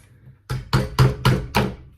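An Allen key is hammered against the retaining pin of an airsoft gun, producing five sharp, close knocks spaced at a steady rhythm with quiet between them.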